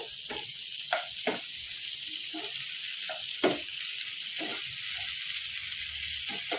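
Sliced onions and green chillies fry in a pan for a raw onion chutney, giving a steady, close hiss of sizzling oil with scattered soft pops and crackles throughout and no talk.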